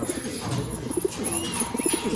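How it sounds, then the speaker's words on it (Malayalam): A pigeon in a loft gives short, soft coos twice against a busy background of other bird sounds. "ഇതാണ്ട് ഇപ്പൊ നമ്മള് കണ്ട പ്രാവ്."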